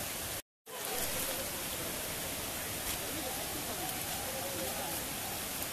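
A secret waterfall on a trek pours as a dense, steady roar of rushing water, loud and constant after a brief cut near the start.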